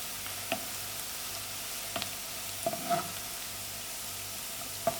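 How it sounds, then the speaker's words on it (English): Turmeric stirred into a hot pan, a steady low sizzle with a few sharp, brief scrapes of the spoon spaced through it, close but fairly quiet, no talking. "And then my hurdee, give it a good stir."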